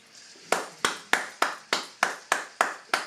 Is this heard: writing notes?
no